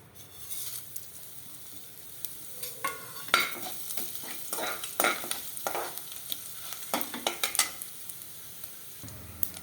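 Spices crackle and sizzle in hot oil for a cashew potato sabji, with sharp popping bursts and stirring scrapes over a steady frying hiss, close by.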